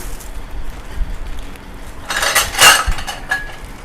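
Metal utensils scoop and clatter in a kitchen during a meal of sesame-fried pork belly with papaya salad, a short burst of close, bright scraping and clinking standing out from a quiet background.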